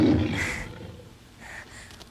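A lion roars once, loud and close, the growl swelling and fading within about a second, then a fainter second rumble follows; no talking is heard.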